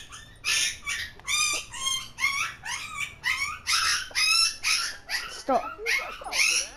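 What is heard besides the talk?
puppy whimpering and barking in the video game Watch Dogs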